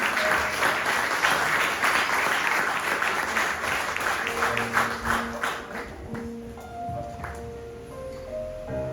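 A church congregation claps together in sustained, dense applause that gradually fades, while soft keyboard tones begin to sound underneath toward the end.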